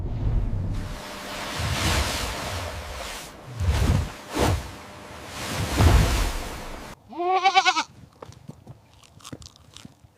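A goat bleats in a loud, wavering, quavering call near the end, after a stretch of chewing and crunching sounds close by.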